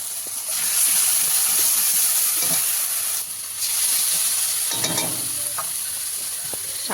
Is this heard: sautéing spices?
yes